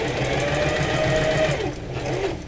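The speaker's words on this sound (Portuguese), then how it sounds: "vai acompanhando e costurando devagar que dá" A sewing machine stitches fabric slowly and steadily, its needle making a fast even mechanical chatter, close and fairly loud, that winds down near the end as the stitching stops.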